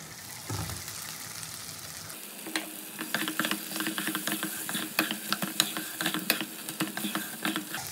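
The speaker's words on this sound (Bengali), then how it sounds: "তো সব উপকরণ দিয়ে মশলাটাকে ভালো করে কষাতে কষাতে এবার ভেজে রাখা আলুটা আমি দিয়ে দেবো।" Spice masala and fried potatoes stir-fried in a pan for a mutton fat and liver dish, a soft start giving way to steady sizzling with repeated scraping and clinking of the spatula throughout.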